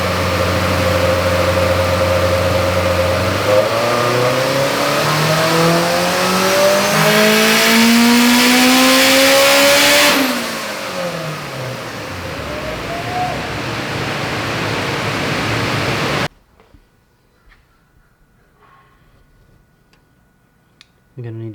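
Turbocharged Honda engine with a unique turbo manifold on a dyno, droning steadily then climbing in pitch through a long loud pull, falling back as it lets off before cutting to near silence.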